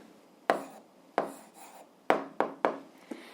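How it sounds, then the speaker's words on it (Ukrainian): Handwriting as an answer is written out by hand: six sharp, scratchy strokes in an irregular rhythm, each with a quick fading tail, close up with no talking. "Ну що ж, записуємо відповідь."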